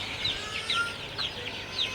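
Young Sonali chicken chicks peep after being given fresh water on a hot day. Four high, thin chirps come at a regular pace over a soft, constant background hiss.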